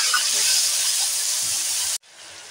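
Spice paste with chilli and turmeric powder sizzles loudly after a splash of water hits the hot pan, a steady close hiss that cuts off abruptly near the end, leaving a quieter hiss.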